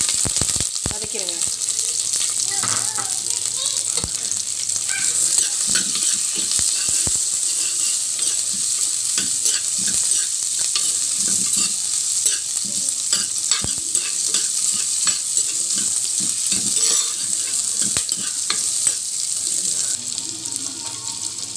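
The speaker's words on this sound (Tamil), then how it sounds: "பட்டை மிளகாய், வெங்காயம், கருவேப்பிள்ளை போட்டு வதக்கிடுங்க" Onion, curry leaves, cinnamon, chilli and cumin sautéing in a pan for tomato pepper rasam: a loud, constant sizzle with frequent sharp spoon scrapes and ticks throughout, no talking.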